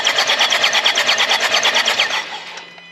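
A Jaguar XE diesel engine with a crank no-start fault cranks over without firing, a loud rapid rhythmic churn of the starter lasting about two seconds before it cuts off and quickly fades.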